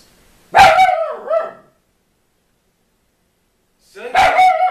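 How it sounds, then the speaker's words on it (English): A dog barks twice, sharp and close, with a pause between: a double bark first, then a single bark after a few seconds of silence. "that's my dog in the background."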